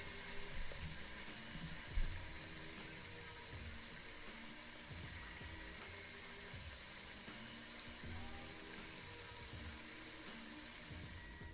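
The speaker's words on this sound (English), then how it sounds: "You're going to want to sear all sides of your meat. Sear it nice and good." Meat for birria searing in a hot pan, a steady broadband sizzle that runs the whole time with a faint clatter near the start, close and continuous, no talking.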